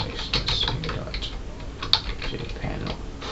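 Typing on a computer keyboard, a quick, uneven run of close key clicks with one sharper keystroke near the middle, over a faint background hum, no talk.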